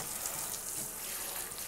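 Water rinsing a dog's coat during a grooming bath, a steady broadband hiss of spray running continuously and fairly close, with no voices.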